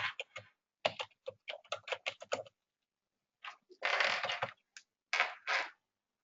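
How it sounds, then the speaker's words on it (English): Password keys tapped on a computer keyboard in quick, close bursts of clicks, pausing briefly and then resuming with a denser run of keystrokes. No talking. "I'm just going to put in the password"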